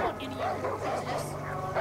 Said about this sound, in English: No, those are the dogs.